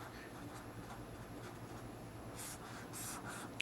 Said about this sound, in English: I'll just write buck converter